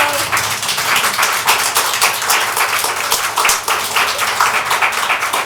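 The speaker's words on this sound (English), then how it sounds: "And if you would clap from the hallway for me and show." An audience claps from the hallway at a county council legislative session, a dense, steady run of many hands applauding at close range for several seconds.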